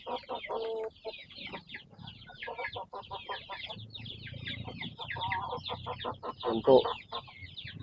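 Giant chicken in a backyard breeding pen, clucking steadily at close range with dense, repeated calls; a person briefly speaks over it.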